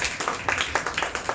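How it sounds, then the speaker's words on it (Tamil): Church congregation clapping their hands together during a Palm Sunday sermon: a steady, rhythmic run of sharp claps, moderately distant and fairly soft, with no voices over them. "கைத்தட்டுங்க ஆண்டவர் மகிமை."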